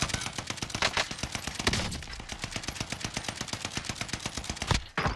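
Rapid automatic gunfire rattles almost nonstop in a multiplayer shooter video game, loud, dense bursts of shots with brief pauses, cutting out near the end.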